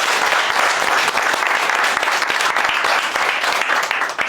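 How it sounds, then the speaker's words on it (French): A large audience at a sales seminar claps for itself, a loud, dense, sustained burst of applause close by that fills the whole stretch without letting up, no talking heard over it. "Applaudissez pour vous-même."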